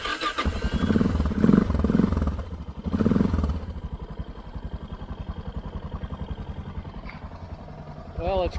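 A motorcycle engine on a backcountry adventure route cranks over again after stalling from a fault, with a steady rhythmic chugging that runs for several seconds at close range, following a stretch of muffled voice and rumble at the start.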